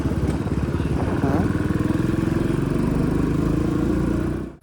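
A Royal Enfield Bullet motorcycle thumps along steadily through Ramkoti market, its rhythmic engine beat close and loud throughout before cutting off at the end.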